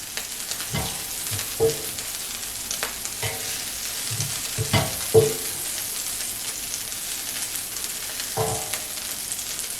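Garlic sizzles in a paella pan with a soft, continuous frying hiss, broken by several sharp scraping and stirring knocks from a utensil, heard close and fairly quiet.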